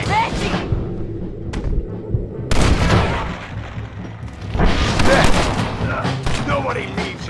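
Gunfire in the Red Dead Redemption Western game on PC, shots cracking in loud irregular bursts with game voices speaking over and between them.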